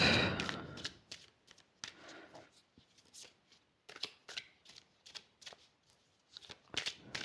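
Tarot cards shuffled for a three-card spread, a soft riffle at the start followed by scattered, close, quiet card slides and taps in an uneven rhythm, with no talk over them.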